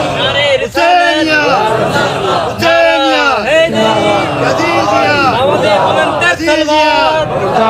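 A loud gathered crowd at a religious commemoration shouts slogan responses in unison, voices rising in strong, drawn-out swells that repeat several times with brief pauses between them.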